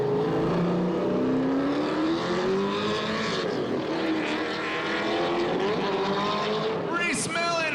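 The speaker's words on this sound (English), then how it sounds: "Reese Millen coming into the bank at speed." Drift race cars at a Formula Drift event at Irwindale, 2005, engines roaring loudly and continuously with rising, falling pitch as they take the banking at speed, a brief screech near the end, under an announcer's voice.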